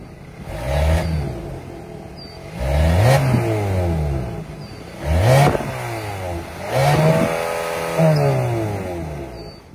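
A 2025 Kia Sportage's 2.5-liter naturally aspirated four-cylinder idles, then revs up and settles back four times in an even rhythm, each rev rising and falling in pitch, loud and close with no talking.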